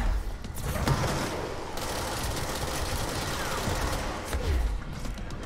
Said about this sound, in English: you can hear the bullets bouncing off, right?